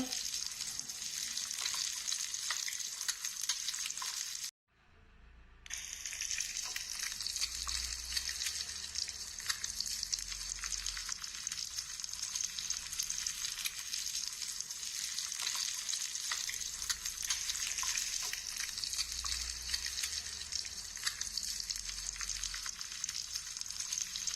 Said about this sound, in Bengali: তেল গরম হয়ে গেছে একদম টক বক করে ফুটছে